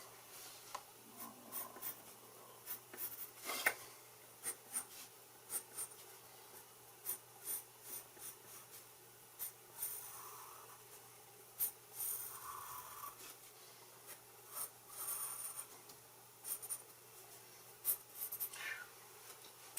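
A pencil scratching lines on paper during freehand sketching, soft close strokes in irregular bursts, some short and some drawn out, over a faint steady low hum.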